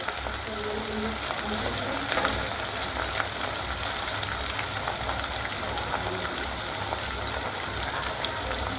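Masala for shahi paneer fries steadily in a pan, a soft, continuous sizzle and crackle heard up close with no talking over it.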